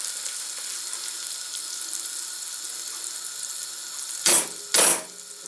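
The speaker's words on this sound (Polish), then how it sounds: "Łyżkę masła, łyżkę miodu. Rozprowadzamy i to się musi nam wszystko razem rozpuścić." Butter and honey melt over low heat in a pan with a soft, steady sizzle, followed by two short bursts of louder hiss or clatter near the end.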